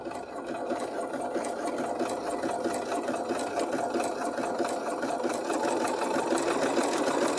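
Home sewing machine stitching fabric, a steady, dense mechanical whir with rapid needle chatter that runs unbroken and close for about seven seconds, with no voices over it.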